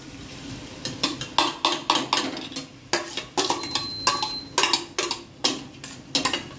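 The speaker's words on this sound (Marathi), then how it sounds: "आता याच्यामध्ये आपण ही डाळ टाकूया." Lentils are tipped into a cooking pot for dal khichdi, with a steady run of metallic clinks and scrapes of a spoon against the pot at a quick, regular rhythm, close and fairly clear.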